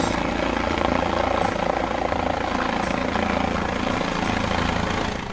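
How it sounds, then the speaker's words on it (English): A helicopter's rotor thumps in a loud, steady, dense drone throughout, close and constant with no talking. "Helicopter, a type of rotorcraft that can take off and land vertically, used for various missions including rescue and transportation."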